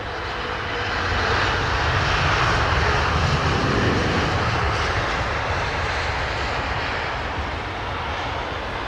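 Jet aircraft noise at London Heathrow airport on a gloomy, overcast day: a loud, continuous roar swells and holds for several seconds, with no voices.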